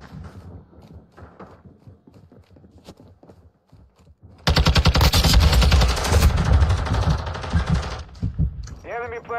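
Automatic gunfire in a video game round, sustained loud bursts of rapid shots after quieter footsteps and thumps, with a voice talking faintly over the action.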